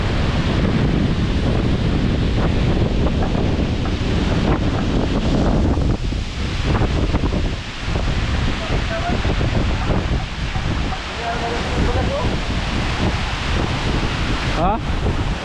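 Strong wind buffets the microphone on a seashore where a wooden boat is being built, loud continuous roaring gusts with surf behind, and brief talk mixed in.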